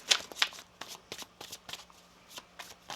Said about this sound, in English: I also notice how your cards are shuffling.